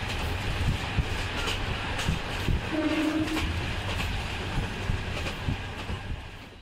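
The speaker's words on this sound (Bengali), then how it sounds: "ঝকঝক শব্দে ট্রেন ছুটে চলল।" A train runs along with a steady rumbling clatter of wheels on track, continuous and fairly loud throughout, with a brief higher tone partway through, in a cartoon setting.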